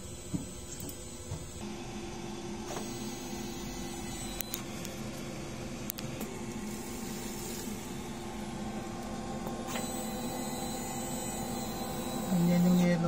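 DTF printer running a head cleaning cycle, giving a steady mechanical hum with occasional clicks and shifts in pitch, and a louder whir near the end.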